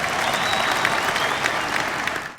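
An audience at a conference hall applauds, a loud, dense burst of many hands clapping together, continuous and close.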